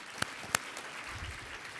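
Faint, distant applause from an audience at a university panel dialogue on energy and the environment, a soft fading patter with two sharper claps standing out early.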